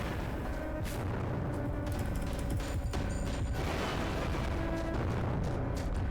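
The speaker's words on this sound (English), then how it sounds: "So that is why I am constantly shooting him from a distance." Shooting in the Sonic and the SEGA All-Stars video game, heard as a dense, continuous mix of booming blasts and rapid gunfire-like bursts with mechanical clatter, loud throughout.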